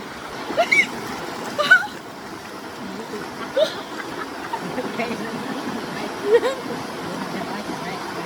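Steady rush of clear water at Ton Phrao waterfall in Krabi, a broad, constant wash filling the background, with a few brief voices and splashy bursts breaking through nearby.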